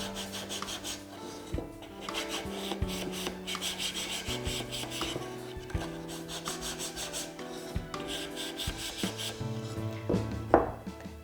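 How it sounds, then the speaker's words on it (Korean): Sandpaper, folded in the hand, is rubbed back and forth along the edges of a wooden craft piece in a woodworking session, giving steady rhythmic rasping strokes that are close and moderately loud. "모서리 사포질이 다 되었으면 안쪽 모서리도 혹시 너무 거칠다면 안쪽도 조금씩 사포질을 해주시면 됩니다."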